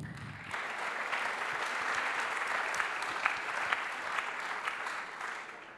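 A conference audience at the Impact France summer university applauds in a thick, sustained wash of clapping after a brief low thump at the start, staying even and continuous throughout.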